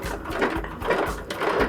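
A sewing machine runs a triple stitch through fabric into felt while embellishing a satchel. It makes a steady, close mechanical chatter with a rhythmic needle thump about every fifth of a second.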